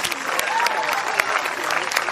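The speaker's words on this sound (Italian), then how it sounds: "Applauso il nostro Daniele Compito" Applause rises from spectators at a horse show in Oristano, Sardinia, with brisk, close, steady clapping and a voice speaking over it.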